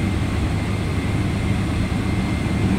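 Airliner jet engines hum and roar in a continuous low, steady drone while waiting for takeoff from Dubai in the X-Plane 11 flight simulator, loud and unbroken with no voices.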